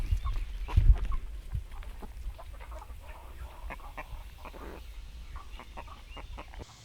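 Backyard flock of chickens, including white and blue Duckwing hens, clucking and calling intermittently at moderate distance with a few louder nearby bursts over low outdoor rumble.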